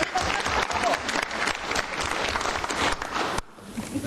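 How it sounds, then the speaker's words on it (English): A Louisville city council audience breaks into dense, sustained applause for honoured guests, loud and continuous for about three seconds before cutting off abruptly to a quieter room. "Let's give them a round of applause."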